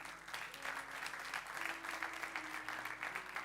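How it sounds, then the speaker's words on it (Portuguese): Congregation applauding inside a church during a sermon, a steady mid-distance wash of many hands clapping over a low hum, with faint voices mixed in. "Quem pode dar um aplauso bem forte ao Senhor?"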